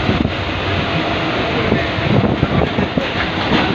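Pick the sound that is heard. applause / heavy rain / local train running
local train running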